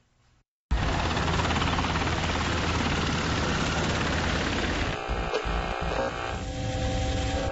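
A police helicopter flies overhead during a chase with dirt bikes in Charlotte. Its rotor and engine make a loud, steady, unbroken drone that starts abruptly and holds for several seconds, with no voices.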